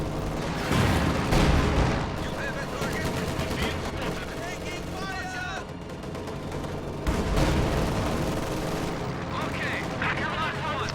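B4 howitzer artillery fire in a strategy video game, heavy booming shots amid ongoing battle noise and gunfire, with a voice commentating throughout.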